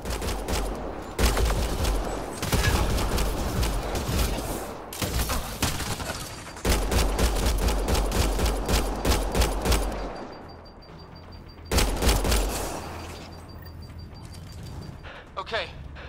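Sustained gunfire in Mass Effect: Andromeda during a firefight with hostile locals, dense bursts of automatic fire with booms and gaps, close and loud, with voices talking over parts of the exchange.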